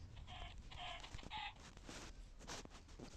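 A chicken in the video game Minecraft gives several short, rhythmic clucks, followed by a quieter stretch of faint in-game scuffling and ambient noise.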